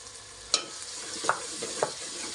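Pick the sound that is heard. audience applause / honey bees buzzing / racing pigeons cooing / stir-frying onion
stir-frying onion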